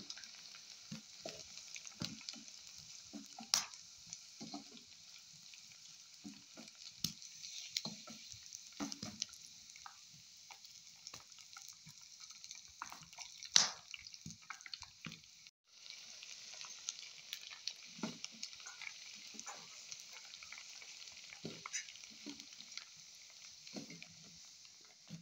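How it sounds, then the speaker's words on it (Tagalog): Leftover cooked dried rice fries in hot oil for crispy pop rice, making a steady high sizzle broken by irregular stirring scrapes and small crackles, close and continuous. "mag-fry tayo"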